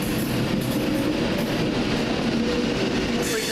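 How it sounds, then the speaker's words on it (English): A Virgin Trains West Coast service from Glasgow Central to Birmingham New Street pulls away, giving a loud, steady rumble of wheels and carriages with faint clickety-clack throughout. "now departing the 1910 Virgin Trains West Coast service from Glasgow Central to Birmingham New Street"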